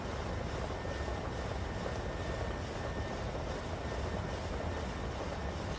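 PMDG Boeing 737 airliner engines in a flight simulator, a steady broadband roar that stays loud and even throughout with no pauses.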